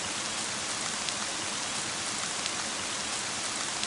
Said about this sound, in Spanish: Ah, ¿está lloviendo en esta habitación?